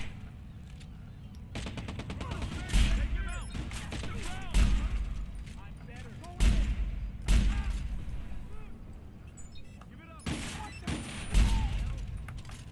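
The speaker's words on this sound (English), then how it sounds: "Who's shooting me this time?" Bursts of automatic gunfire and single shots in the Watch Dogs: Bad Blood video game come in repeated volleys over about twelve seconds, loud and close, with someone talking between them.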